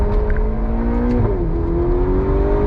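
A Ferrari GTC4 Lusso T engine runs at a steady, loud, close drone, its pitch dipping briefly and then climbing again as it revs.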